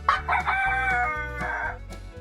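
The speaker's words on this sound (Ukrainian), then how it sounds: "Кукуріку говорить півень." A rooster crows once, a loud, close cock-a-doodle-doo with a rising start and a long held note that trails off.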